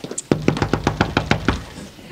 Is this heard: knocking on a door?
yes